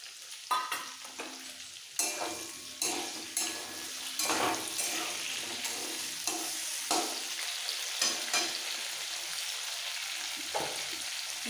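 Potatoes with chopped tomato frying and being stirred in a pan for a vegetarian potato and pointed gourd curry, a steady sizzle broken by repeated scraping spatula strokes against the metal, close and alone with no talk.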